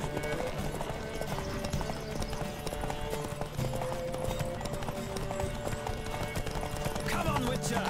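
Rapid clip-clop of horse hooves at a gallop in the video game The Witcher 3, steady and rhythmic, with voices talking and shouting over it.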